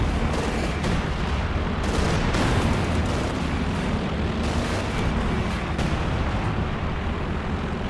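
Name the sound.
bunker busting artillery barrage, Company of Heroes 2 video game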